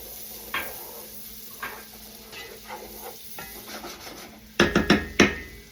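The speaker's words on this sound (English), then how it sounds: "I'm just gonna give that a stir and get that all incorporated into the butter" Finely minced garlic and onion stirred into melted butter in a soup pot: a gentle sizzle with a few soft scrapes, then a burst of louder, quick spoon strokes near the end, heard close with no speech.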